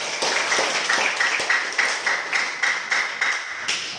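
A classroom group claps in a quick, steady rhythmic pattern of sharp, evenly spaced hand claps, bright and fairly close, repeating about three times a second without talking.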